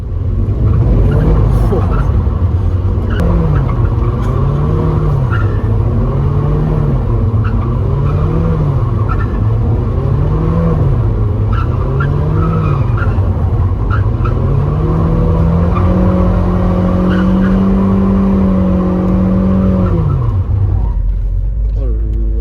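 A Mazda MX-5 convertible on track, its engine rising and falling through repeated up-and-down sweeps before a long sustained high-revving stretch that suddenly cuts off, loud and close, with people talking over it.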